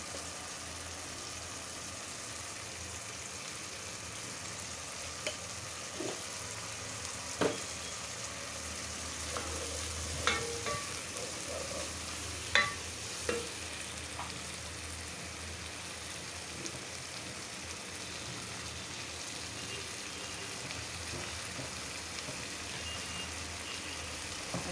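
A spice paste with tomato fries in a pan, giving a low continuous sizzle like light rain, broken by occasional sharp taps and scrapes of a spoon stirring, nearby and subdued, without speech.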